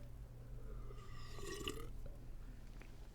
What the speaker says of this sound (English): Because I burp a lot?